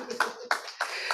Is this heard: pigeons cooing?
no